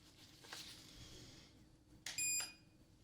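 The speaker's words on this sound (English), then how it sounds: "So that was the beep." A short, faint electronic hearing-test beep with a high, pure tone sounds once against a quiet background, preceded by a soft rustle.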